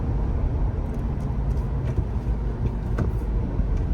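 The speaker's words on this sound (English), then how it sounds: "And then I'm going to do a downshift to third." Engine of a 2014 Toyota FJ Cruiser fitted with a TRD short throw shifter, a loud steady low rumble as the driver downshifts to third gear, with no talking.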